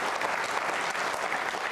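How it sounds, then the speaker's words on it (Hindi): Audience at a quiz show for trainee state civil services officers breaks into dense, loud applause, many hands clapping steadily and evenly across the whole moment with no talk on top. "तालियां जोरों से बजाएं एक बार"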